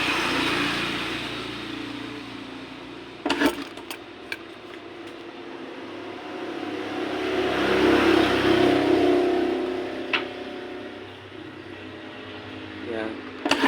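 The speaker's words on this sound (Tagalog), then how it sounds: "maingay yung sa kalsada, yung dumadaan sa sasakyan" Road traffic from vehicles passing along a nearby street, a continuous moderate engine hum that swells as one vehicle goes by, with a few sharp clicks and knocks close at hand.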